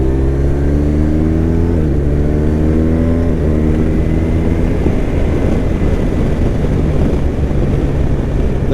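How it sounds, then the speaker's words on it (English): A 2022 BMW R1250RT motorcycle engine pulls hard in third gear, a loud close drone climbing steadily in pitch through several gear-like steps before giving way to rushing wind noise. "I'm cruising third gear, watch, and this bike gets up and moves"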